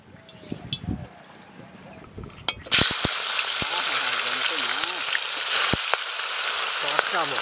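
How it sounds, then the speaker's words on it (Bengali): Fish hits hot mustard oil in a wok with a sudden loud sizzle that then crackles steadily and closely, following some quieter kitchen clatter, with voices talking faintly underneath. "এখানে কই মাছ পোনা মাছ ভাজবো"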